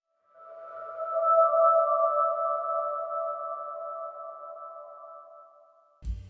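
Minecraft Cave 2 ambient sound, the eerie choir-like 'angel singing': a soft sustained two-tone hum swelling in, holding steadily for several seconds, then fading, followed by a brief low thump.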